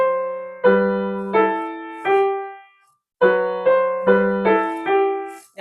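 Piano chords from Grieg's Piano Concerto struck in a steady sequence, three chords, a pause, then four more, each ringing and decaying, played alone and close.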